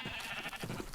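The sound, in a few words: sheep bleating in Minecraft video game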